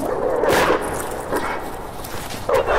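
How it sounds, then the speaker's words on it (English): Frigid wolves growl and bark in an audio drama effect set among frozen stars, a rough snarling attack that comes in several harsh bursts over a constant noisy background. "The approaching onslaught of growls and barks cut him off, the frigid wolves falling upon the freshly incapacitated prey."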